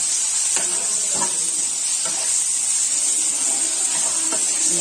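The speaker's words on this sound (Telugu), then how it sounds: "1 టేబుల్ స్పూన్ ధనియాల పొడి వేసుకొని ఒకసారి కలిపేసుకొని" Chicken masala curry being stirred in a pan after coriander powder goes in, a steady close sizzle with a few soft scraping strokes of the spoon at regular intervals.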